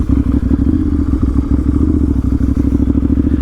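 A 2012 Ducati 796 Monster V-twin engine chugs at slow speed, a steady loud low-pitched rumble with rapid uneven pulsing and occasional clattery thumps, close and continuous throughout.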